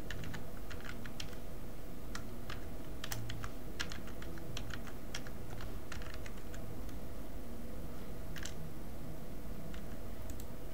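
A name is typed on a computer keyboard in quick, continuous clicking keystrokes, close and clear, with no talk.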